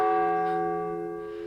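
A great church bell rings once and hangs in the air, a steady harmonic hum slowly fading over a second and a half with no other sound.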